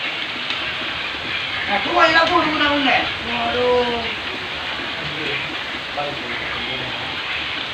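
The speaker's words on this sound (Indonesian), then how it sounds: "Lagi hujan deras sekali" Heavy rain pours down in a steady broadband hiss over a village, loud and continuous, while people talk briefly over it.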